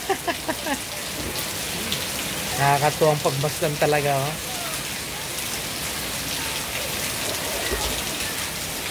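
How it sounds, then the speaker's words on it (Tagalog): Steady heavy rain hisses throughout, with a person speaking briefly over the downpour in the middle. "lakas na ng ulan guys"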